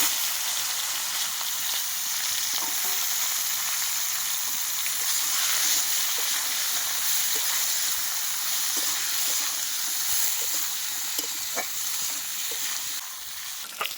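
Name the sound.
taro stolons frying in hot oil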